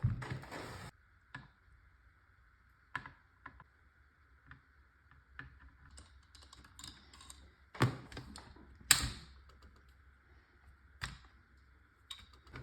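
Phillips and 4mm Allen screws being worked out of an Umarex HDX grip frame, heard as sparse, quiet clicks and small metallic taps spread across a faint steady hum, with a few sharper knocks near the end.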